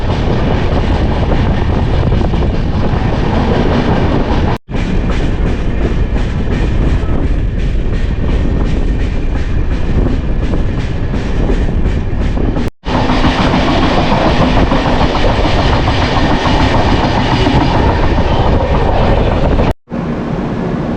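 Falaknuma Express, the 12704 superfast train, running through Haridaspur station without stopping, heard as a loud continuous rumble with steady clickety-clack of wheels on rail joints, broken by brief gaps, no voices.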